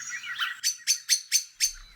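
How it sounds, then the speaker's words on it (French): Small birds sing in a peaceful countryside setting, giving a twittering phrase followed by five quick, evenly spaced chirps, clear and fairly close, with no voices. "Le chant des oiseaux."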